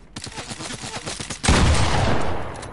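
Rapid bursts of submachine-gun fire in a video game, a quick run of close shots for about a second and a half before a dense, loud sustained barrage takes over and slowly fades.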